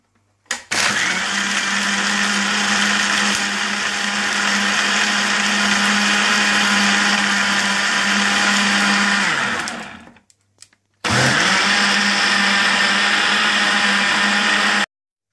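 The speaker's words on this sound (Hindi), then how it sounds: "इसके बाद आप इसे ब्लेंड कर लें।" Electric blender whirring through a salty yoghurt lassi with salt and lemon juice, loud and steady for about ten seconds, cutting off briefly, then running again at full power, close and without talk.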